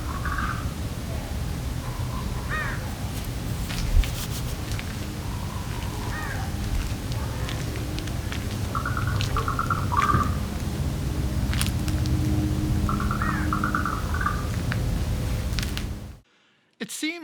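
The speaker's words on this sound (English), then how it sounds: "It seems that it would be just about impossible to get good clean bird sounds from this mess." Scattered bird calls in short chirping bursts, fairly distant, half buried in a constant rumbling background noise that cuts off near the end.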